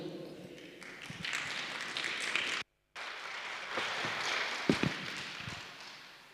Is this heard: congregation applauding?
yes